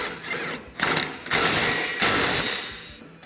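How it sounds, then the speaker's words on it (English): Rear bumper bracket bolts on a Polaris RZR Pro XP tightened with a ratchet, giving loud, close, continuous clicking in three bursts with brief pauses between them. "you'll go ahead and fully tighten the hardware."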